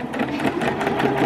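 A sewing machine stitches along the shoulder lines of an interfaced facing for a women's tailored trench coat, a steady close, loud mechanical whir running without a break through the short stretch.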